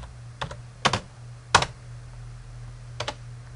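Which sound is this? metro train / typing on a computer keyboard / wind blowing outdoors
typing on a computer keyboard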